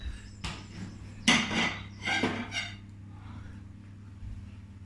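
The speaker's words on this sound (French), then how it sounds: "Je vais sortir une assiette." A plate is taken out in a kitchen while batter heats in a pan: a few light ceramic clinks and clatters close by over a low steady hum, no talking.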